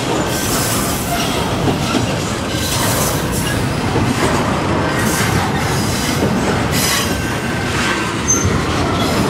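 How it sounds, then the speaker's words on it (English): A freight train with five engines backing up and reversing direction on a rail line, a steady loud rumble of rolling cars with clanking and faint wheel squeal throughout. "That's the first time I ever caught a train going in and backing up the other direction."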